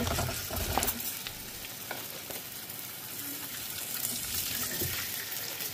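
Taro (arbi) pieces sizzle and fry steadily in hot oil, a dense continuous crackle with occasional stirring scrapes close by, no voices.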